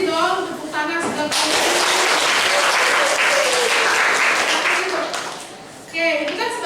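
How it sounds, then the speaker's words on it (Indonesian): A classroom audience at a Palembang high school applauds after a class presentation, with dense, sustained clapping that swells and fades while voices speak at the start and end. "tepuk tangan sudah"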